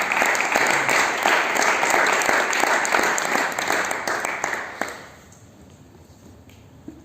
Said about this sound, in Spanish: Dale un fuerte aplauso a este Dios, por favor